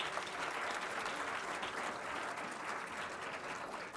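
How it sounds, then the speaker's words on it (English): An audience at a university pharmacy school induction programme gives a long, even round of applause, steady crowd clapping that fills the room throughout, heard fairly faint and without speech. "please give yourself a big round of applause."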